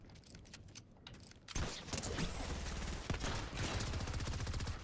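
Gunfire in Fortnite rings out as a few separate shots, followed by a loud, sustained burst of rapid automatic fire that fills the remaining seconds close up.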